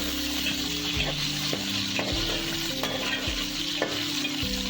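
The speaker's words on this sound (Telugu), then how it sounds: "స్టవ్ అయితే లో ఫ్లేమ్లో పెట్టుకొని ఫ్రై చేసుకోండి" Sliced onions and green chillies fry gently on low heat for vegetable pulao, a soft continuous sizzle with repeated stirring scrapes and clinks against the pan, a low steady hum running underneath.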